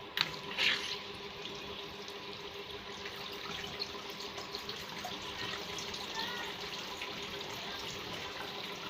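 Water pumped from the center of a small self-cleaning road model runs and trickles steadily and faintly, with a brief splash near the start.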